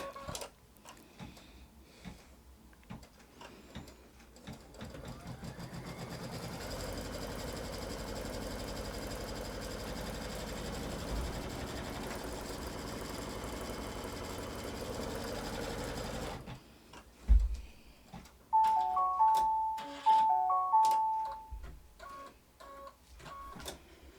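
An embroidery sewing machine stitches a quilt block held in the hoop, its fast even mechanical whir running steadily for long stretches between short pauses and clicks, close and fairly loud with no talking.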